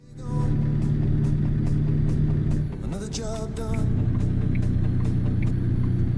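A heavy truck engine in American Truck Simulator growls steadily and loudly throughout, with a brief shift in pitch partway, while someone speaks briefly over it.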